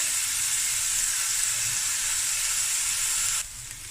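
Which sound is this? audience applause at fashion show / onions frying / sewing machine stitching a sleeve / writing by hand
onions frying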